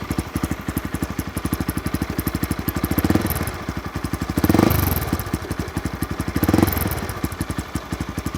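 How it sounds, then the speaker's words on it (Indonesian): A Honda CB150 motorcycle fitted with a Tiger Evo slip-on exhaust idles close by with a steady, fast, throbbing beat. It is blipped twice into short, louder revs that fall back to idle. "Suara knalpotnya nih guys."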